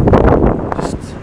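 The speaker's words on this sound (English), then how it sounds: "nice and windy out here" Wind gusting outdoors in Abu Dhabi, buffeting the microphone with a loud, steady low rumble through a brief moment.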